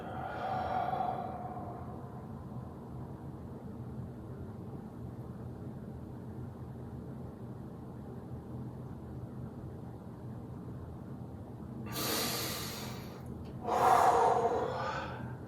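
Breathing during an ab vacuum core exercise: a quiet, near stretch of held stillness with low background hum, then two sharp audible breaths, a strong exhale followed by another forceful breath near the end.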